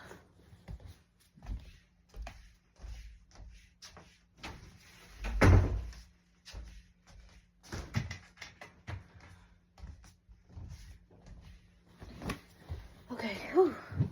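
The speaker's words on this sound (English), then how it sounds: "Let me close my door." A bedroom door being shut, one solid thud partway through amid quiet room noise, with light talk scattered around it.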